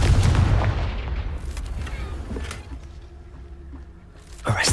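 A Confringo fire-blast spell explodes in Hogwarts Legacy. A loud, heavy boom opens, decays into rumbling debris and crackle, and a second sharp burst hits right at the end.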